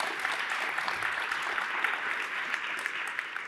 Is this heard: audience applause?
yes